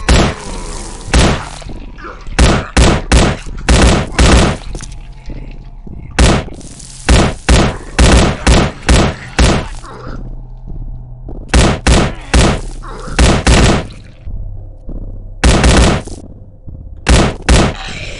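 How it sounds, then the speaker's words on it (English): Rapid volleys of loud gunshots ring out while blasting zombies in the PC shooter Day of the Zombie, coming in bursts with short pauses and echoing reverb between them, close and punchy throughout. "it's fun shooting all the zombies and seeing their heads explode from unloading"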